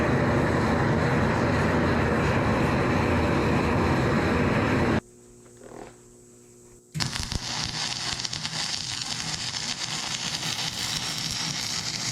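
Angle grinder grinding a weld on the cracked boom of a Case 170B large excavator, a loud, harsh, continuous metallic grinding that stops abruptly, pauses for about two seconds, then starts again just as loudly.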